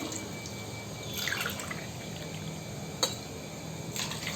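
Water pours into a pot for wheat kanji, a soft steady trickle and splash with a few sharper drips, fairly quiet in a home kitchen.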